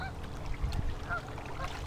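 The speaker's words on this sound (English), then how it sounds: "there are my goose friends on the river going for a swim" Geese on a river on a bright, sunny day honk and call faintly in the middle distance. Outdoor background noise runs beneath the calls.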